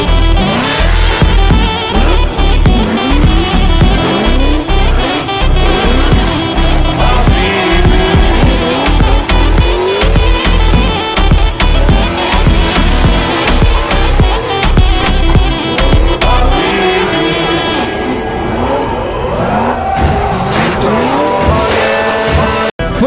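A car driven flat out and then thrown into a handbrake drift, with the engine roaring loudly and continuously and tires squealing and skidding throughout, dense and close with no talking.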